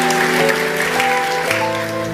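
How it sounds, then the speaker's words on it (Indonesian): A church congregation applauds during an Easter worship service, steady dense clapping that holds at a loud level for the whole stretch, with a sustained musical tone underneath. "Kita beri tepuk tangan untuk kebenaran ini."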